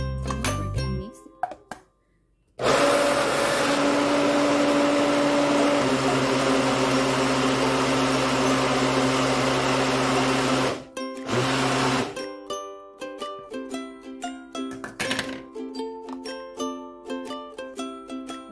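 A kitchen blender whirs loudly and steadily for about eight seconds as it mixes avocado with condensed milk and milk for popsicles. Clinks and taps sound before it starts and after it stops.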